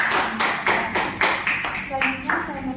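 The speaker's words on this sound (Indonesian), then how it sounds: "berikan tepuk tangan terlebih dahulu terhadap delegasi dari Vietnam" Rhythmic clapping from participants at a model ASEAN summit meeting greets a delegation, several quick bursts of applause in a room, fairly close and steady.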